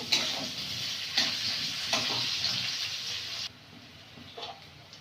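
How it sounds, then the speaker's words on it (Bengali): Onions sizzle in hot oil with kalo jeera for a fish curry with taro and potato, a close steady frying hiss broken by a few stirring scrapes before the sizzle drops sharply. "পেঁয়াজটা ভাজা ভাজা করে নেব।"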